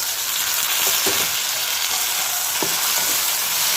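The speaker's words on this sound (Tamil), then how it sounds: "கத்திரிக்காய் நல்லா வதங்கிக்கிட்டு தக்காளியும் நல்லா வதங்கிக்கிட்டு இருக்கு" Loud, steady sizzling of eggplant, tomato and okra sautéing in a hot pan, with occasional soft stirring scrapes, continuous and close.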